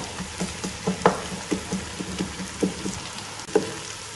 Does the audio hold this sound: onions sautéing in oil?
yes